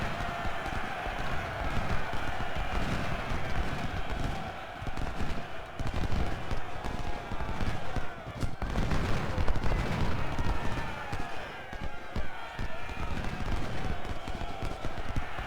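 Civil War battle gunfire in the Ultimate General Civil War strategy game: a dense, continuous rattle of distant musket volleys and rumbling shots with galloping hooves, steady and fairly loud throughout.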